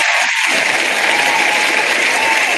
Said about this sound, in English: that was all the people cheering your answer